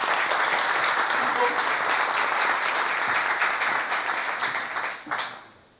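Audience applause at a military chaplaincy development seminar welcoming a speaker, dense steady clapping from a large crowd that holds for about five seconds, then tapers off at the end.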